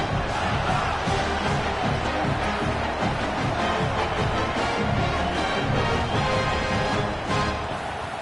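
A home crowd at a South Carolina Gamecocks college football game roars and cheers in a dense, loud, unbroken wall of sound ahead of the season-opening kickoff.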